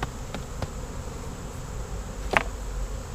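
Honey bees buzz around an open hive in a steady, close drone, with a few sharp clicks of frames or tools cutting through.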